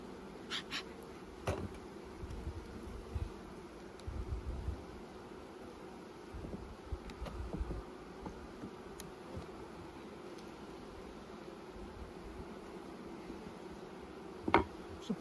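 Bees buzz around a beehive in late fall, a soft, steady drone from many insects with occasional louder passes close by, over faint wind and rustling outdoors.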